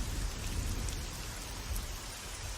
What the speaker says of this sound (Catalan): Les tempestes d'aquest planeta són molt perilloses.